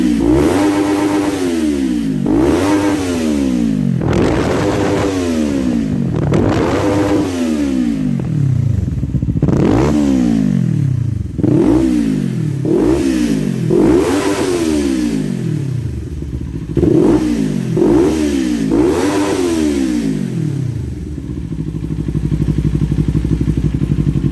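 A Kawasaki Ninja 400 KRT with a full Njt cacing exhaust system revs hard to the rev limiter again and again, each blip rising and falling in pitch, loud and close, with short gaps between bursts.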